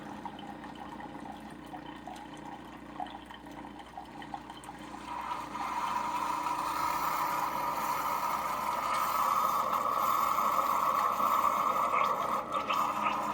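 A Keurig or Cuisinart K-Cup single-serve coffee maker hums as its motor and pump run, starting quieter then swelling into a steady louder whir with gurgling water flow, heard alone and close.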